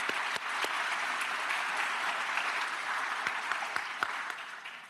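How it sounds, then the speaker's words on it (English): Audience applause at a graduate and professional school awards ceremony, a dense, steady wash of clapping from a large crowd that holds for about five seconds and tapers slightly at the end. "So one more applause for all of our awardees."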